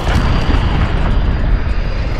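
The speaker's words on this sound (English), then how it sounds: "Allied cruise missile away." Cruise missile launch and explosion in Call of Duty: Modern Warfare, a loud, sustained rumbling roar with deep booming energy that fills the clip without a break, no voices heard over it.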